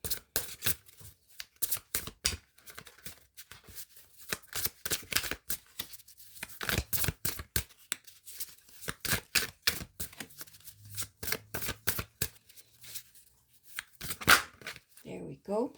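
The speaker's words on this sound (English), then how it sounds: "I'm going to just pull the cards now." Tarot cards being shuffled and pulled, with quick bursts of riffling and flicking in irregular clusters, close and crisp, with quiet pauses between and a person talking at times.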